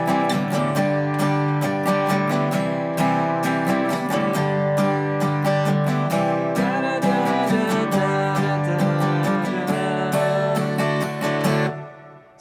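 Guitar strumming pre-chorus chords with a steady, even pattern, bright ringing strings played close and alone, ending on an abrupt cutoff.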